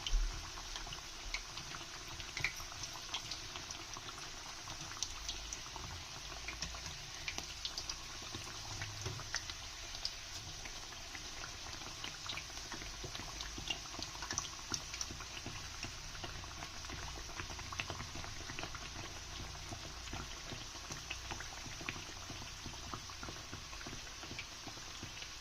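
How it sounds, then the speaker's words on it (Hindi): Sindhi pakwan dough slow frying in hot oil, a steady soft bubbling and sizzling hiss with faint crackles, continuous and fairly quiet throughout, no voices. "अब देखिए ये स्लो फ्राई हो रहा है और ऊपर भी आ रहा है।"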